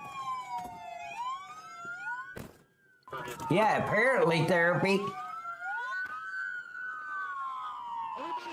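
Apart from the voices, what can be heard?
police car sirens during pursuit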